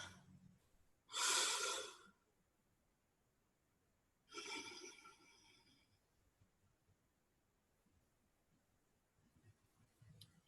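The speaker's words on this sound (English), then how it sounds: "let's take 3 deep breaths" Slow, deep breaths during a calming heart coherence relaxation exercise: two long, airy breath sounds a few seconds apart, close and soft, separated by near silence.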